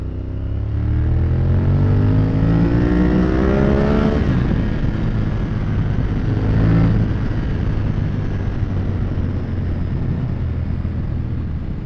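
A Honda CB500 motorcycle engine revs with a slightly hesitant throttle, needing a small carburettor adjustment. The engine note is loud and close and rises in pitch, then settles back into a steady, rumbling idle.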